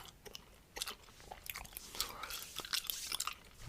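Powdered chewing gum being chewed up close in a Turkish ASMR setting, with moist, crackly clicks and smacks repeating irregularly and close to the mic, no talking.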